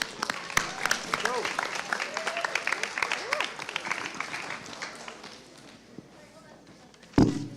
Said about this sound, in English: Next up, we have Shanti Azarov with Moms. A round of applause.